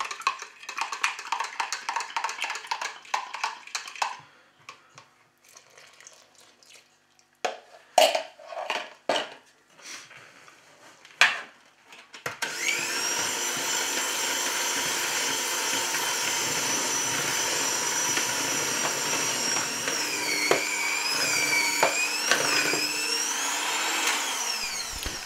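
Flour, spelt flour and quark are stirred together in a large bowl for pizza dough. Clinking and scraping come in uneven bursts, then a loud, steady motorized whirring runs for several seconds.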